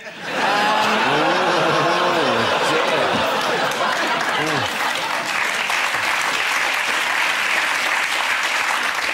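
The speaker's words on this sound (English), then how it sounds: "They're clapping a plane crash" A studio audience at a British comedy panel show breaks into loud, sustained applause that swells within the first second and carries on strongly, with talk and laughter at the start briefly heard over the clapping.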